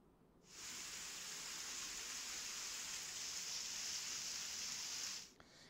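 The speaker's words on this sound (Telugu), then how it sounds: "భారీగా వర్షాలు పడుతున్నాయి" Heavy monsoon rain pours steadily in Bhadradri Kothagudem district of Telangana, a dense, continuous hiss that starts abruptly, holds evenly for about five seconds and then cuts off, with no voices.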